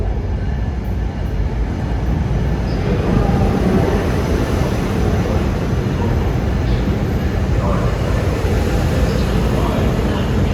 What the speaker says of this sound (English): Here comes 9591 bound for Thorndale